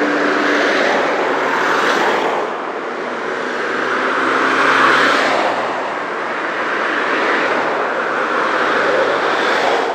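Cars pass along a roadside in Montenegro without stopping, a steady broad road roar that swells and eases as vehicles go by, with no voices.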